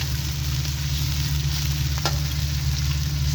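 Onions frying in hot oil for a quail karahi masala, giving a steady, close, even sizzle with a low hum underneath and one brief clink partway through.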